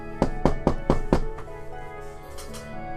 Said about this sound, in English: you hear a knocking on your door